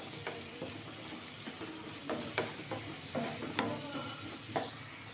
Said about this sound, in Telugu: ఆనియన్, టమోటా అంతా బాగా వేగిపోవాలి.